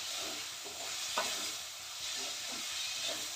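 Chopped tomato being stirred into a roasted arbi (taro root) gravy in a pan, giving a soft continuous scraping and sizzling with a few louder spoon strokes, no voices.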